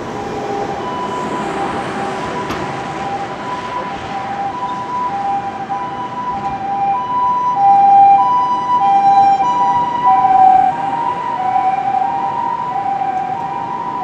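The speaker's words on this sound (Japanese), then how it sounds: "緊急車両が通りましたので中断いたしました。" An emergency vehicle siren sweeps past on a busy street outside Ikebukuro Station's east exit in Tokyo, its wailing tones rising and then fading across the whole stretch over steady traffic and crowd noise, with no one speaking.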